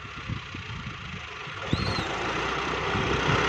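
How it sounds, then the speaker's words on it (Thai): A John Deere 5065E tractor with a turbo engine revs lightly and pulls away, a close, low mechanical drone with soft thumps that grows gradually louder. "เร่งเครื่องเบาๆแล้วก็วิ่งกัน"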